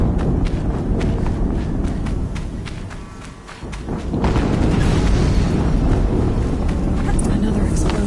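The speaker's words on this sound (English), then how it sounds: "Another explosion." Explosions boom in Horizon Zero Dawn gameplay, a loud, continuous rumbling roar with dense thuds and footstep-like impacts that dips briefly mid-clip before swelling back to full strength.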